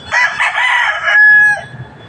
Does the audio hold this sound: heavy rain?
no